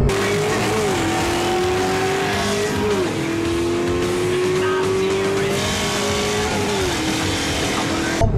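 A supercharged 2003 Ford Mustang Cobra Terminator V8 pulls hard on the move, its engine note climbing through the revs, then dropping sharply at each of several gear changes, loud and close throughout.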